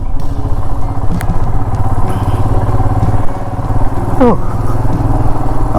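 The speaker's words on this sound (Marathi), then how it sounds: "बाइक राइड कर रहे हैं." A motorcycle rides along Malvan beach, its engine a loud, steady, close putter with buffeting throughout the ride.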